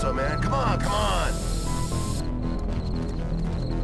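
A spray paint can hisses in The Warriors video game, a steady airy spray for about two seconds, with game music and ambient sound around it.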